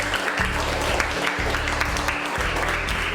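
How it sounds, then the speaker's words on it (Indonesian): Elementary school classmates clap for a student group in a classroom, a steady wash of hands running the whole time over a low, pulsing electrical hum. "beri tepuk tangan untuk kelompok D"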